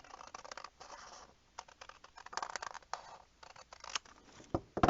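Scissors snip through paper for a junk journal, a run of close, quiet crisp cuts and rustles in an irregular rhythm with short pauses, followed by a few sharper clicks at the end.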